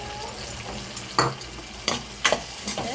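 Sathai karuvadu dried fish fries with tomatoes in hot oil, giving a dense, steady sizzle up close, with three or four sharp scraping stirs of the spatula against the pan.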